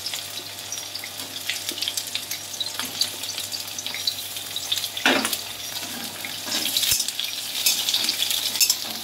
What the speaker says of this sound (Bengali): এটা এখন আমি পটল ভেজে নিচ্ছি